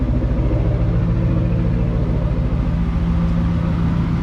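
A car engine idles steadily and loudly up close, a continuous low rumble with even harmonics and no talk, from a car whose exhaust headers are wrapped.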